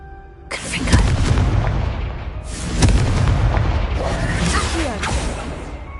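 Confringo fire blast spell cast in Hogwarts Legacy: a sharp burst followed by roaring, crackling blasts that repeat, loud and close, with no talk.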